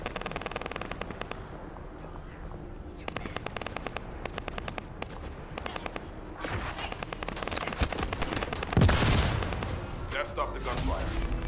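Rapid bursts of gunfire in the game The First Descendant crackle repeatedly, with automatic volleys and a heavier blast near the end, while voices talk over it.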